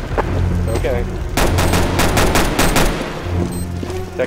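Tec-9 and AK fire in Counter-Strike GO comes as a loud, rapid string of shots forming a dense burst in the middle, with scattered shots around it.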